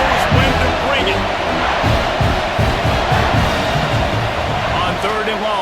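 A dense, roaring stadium crowd cheers continuously through a College Football 26 video game broadcast of Miami versus Clemson, loud and steady with swells of noise, while a commentator talks over it.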